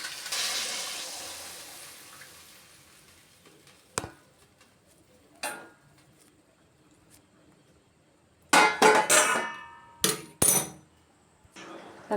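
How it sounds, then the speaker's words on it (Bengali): Hot water poured into a cooking pot of pointed gourd, potato and pumpkin curry, a hissing splash fading at the start, then scattered knocks and several loud bursts of pouring and sizzling. "এবার আমি গরম জলটা দিয়ে দেবো।"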